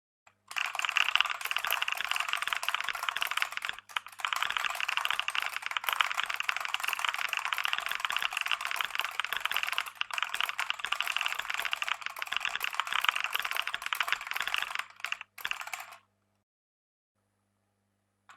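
Steady, continuous keyboard typing with dense rapid clicks for about fifteen seconds, close and fairly faint, with a brief pause early on and then silence at the end.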